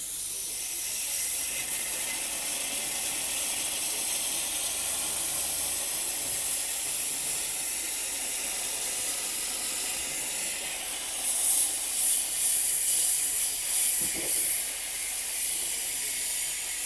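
A Grünhelm GSTC400 handheld steam cleaner hisses steadily and loudly for the whole stretch, a continuous broadband rush that swells slightly toward the end, with no talking over it.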